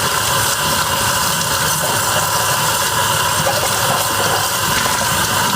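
Tap water runs steadily while dishes are washed by hand, a continuous close rushing hiss with no pauses and no voices.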